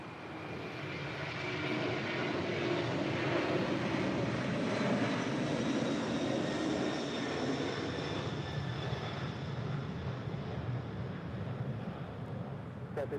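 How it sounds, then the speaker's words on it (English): A Cathay Pacific Cargo Boeing 747-400 freighter departs LAX for Anchorage, its jet engines a loud, sustained roar with a whining high tone, steady for the full stretch and slowly fading near the end. "That is Cathay Pacific Cargo 2081 departing to Anchorage on a 747-400 freighter."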